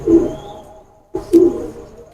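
Old-breed pigeons coo in two short, close bursts separated by a brief pause, soft low throaty calls standing alone without any talking.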